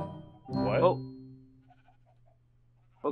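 Sheep in Minecraft Skyfactory 3 give a single short bleat near the start, followed by a quieter tone and a faint game sound at the end.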